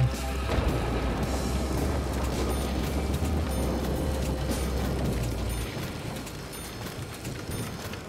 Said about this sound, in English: I want to see how the mortar rounds work.